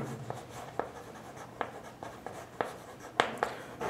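Pen or pencil writing by hand on paper during a Bengali maths lesson on proportion, a series of short scratchy strokes and taps at an irregular rhythm, close and fairly quiet, with no talk over it.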